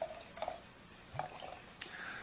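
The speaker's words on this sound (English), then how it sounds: "Give a little bit more of a vigorous pour" Bourbon barrel aged imperial stout poured vigorously from a 375 ml thick glass bottle into a glass, quiet drips and soft splashes in a few brief bursts, close and faint.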